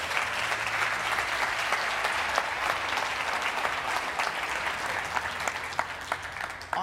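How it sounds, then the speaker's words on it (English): Dense, steady applause from an audience welcoming two volunteers onto a stage, a continuous wash of many hands clapping at an even level for several seconds with no talk over it. "give them a big round of applause"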